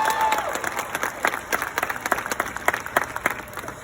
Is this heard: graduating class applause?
yes